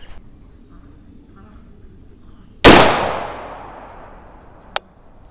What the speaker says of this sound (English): Okay. I think we are ready to shoot.